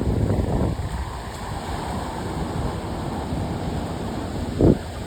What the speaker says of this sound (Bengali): আর সমুদ্রের এই ঢেউ